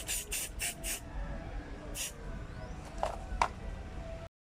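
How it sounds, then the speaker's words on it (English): A can of spray paint hisses in short, close bursts, several quick sprays at the start and a few more scattered later over a steady background hum, being applied to a DIY centerpiece. "Try and spray paint as smooth as you could."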